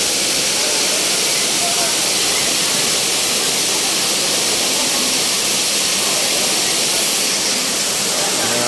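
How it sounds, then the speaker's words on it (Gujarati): Hathni Mata waterfall crashes continuously, a dense, even roar of falling water close by, unbroken from start to finish with no clear voices above it. "આ ધોધ પરથી ધોધ પડી રહ્યો છે"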